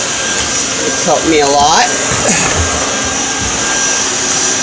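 Loud, close whine of a vacuum cleaner working over a trailer's wooden floor, a steady motor drone, while someone speaks briefly over it.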